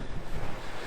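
Big ocean waves and wind at coastal cliffs north of Sagres, Portugal, in a very brief, loud, continuous roar of surf and gusting wind buffeting the microphone.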